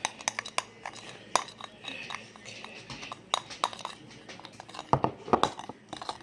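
Detergent slime with extra glue being stirred in a bowl, giving irregular close clinks and scraping taps of a utensil, with soft sticky squelching in between and a few louder knocks near the end.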